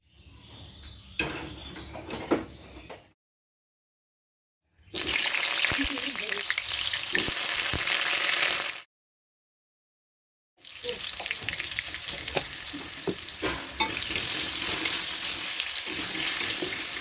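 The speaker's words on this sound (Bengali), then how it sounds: "আমার মা যে আলুগুলো কেটেছিল মাটনের জন্য বড় বড় পিস করে, সেগুলো আমি ভেজে নিয়েছিলাম" Large potato pieces frying for mutton curry in a pan, a loud steady hiss and crackle of hot oil in three long bursts separated by silent gaps, with brief stirring and clinks.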